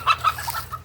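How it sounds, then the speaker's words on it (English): Several farm roosters cluck in a quick series of short, bright calls, fairly close and clear over a low steady hum, with no talking. "You saw them roosters just hop in the air."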